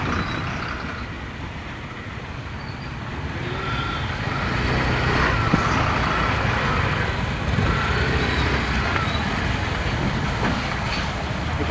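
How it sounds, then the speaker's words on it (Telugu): Road traffic in a jam, with a dense wash of idling and creeping cars, buses, trucks and motorcycles all around. The noise holds steady at a moderate level and swells slightly midway, with no clear voices above it. "ఇప్పుడు ట్రాఫిక్ జామ్ అయింది"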